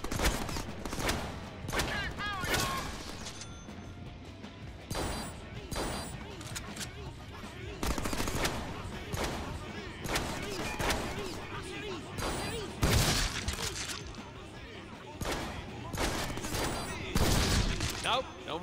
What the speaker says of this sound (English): I set my gun to perforate